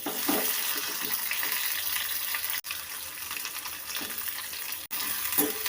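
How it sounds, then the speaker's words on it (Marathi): Sliced onion frying in oil in a kadhai, a steady close hiss of sizzling that runs throughout, broken by two brief pauses, with no talk. "कांदा चांगला लाल परतून घ्यायचा"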